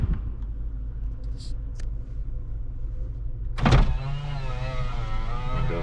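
A 1999 Honda CR-V sits idling with a low rumble while a power window motor whirs for a few seconds with a rising whine, ending in a thump as the glass seats.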